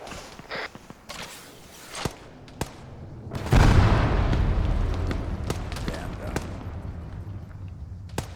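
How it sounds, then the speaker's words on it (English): Bombs exploding in a video game: a sudden deep blast with a long rolling rumble follows scattered sharp thuds and pops, mid-distance and fairly loud against a busy battle backdrop. "Bombs."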